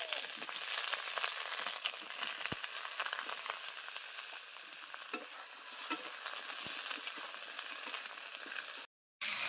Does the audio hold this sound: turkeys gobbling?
no